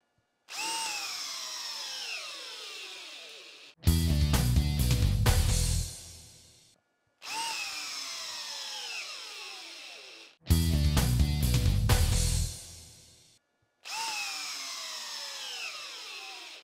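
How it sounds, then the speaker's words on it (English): A Bosch Profactor 18V half-inch hammer drill (GSB18V-1330C) runs in repeated bursts, a whining spin-up alternating with harsh hammering drilling passes, five loud close segments separated by brief pauses, with no voices. "So now let's go see if this drill actually really is the world's strongest drill."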